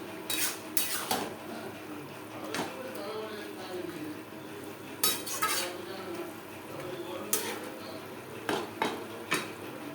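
A spoon stirs banana flower curry with ground coconut in a pan, making repeated sharp metallic scrapes and clinks against the pan at an irregular pace over a soft background.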